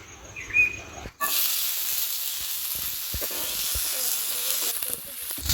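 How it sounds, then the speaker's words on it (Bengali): Onions and chilies drop into hot oil and burst into a loud, close sizzle that holds steady for several seconds, with a few light stirring knocks. "তেল দিয়ে ঝাল পেঁয়াজগুলো ভেজে নেবো"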